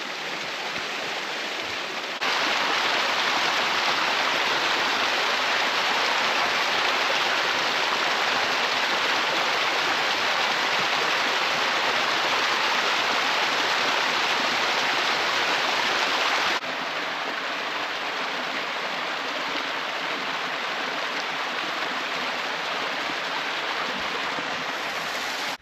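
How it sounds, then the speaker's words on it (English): A small waterfall and stream beside a remote Scottish loch give a close, steady rushing roar of water, louder through a long middle stretch, with no voices. "Mini waterfall."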